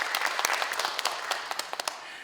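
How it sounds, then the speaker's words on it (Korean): Audience applause at a cultural city project briefing session in Gangneung: a steady wash of many hands clapping, with sharp individual claps standing out, sustained through the whole stretch. "박수 부탁드립니다"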